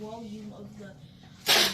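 A single sharp, loud sneeze bursts out right after a person talks during a kids' liquid separation science experiment at home.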